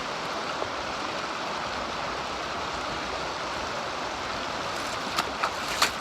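Water rushing steadily through a Grizzly Gold Trap MotherLode sluice set at about 7 to 8 degrees, a constant broadband wash with a few faint splashes and clinks near the end, no voices.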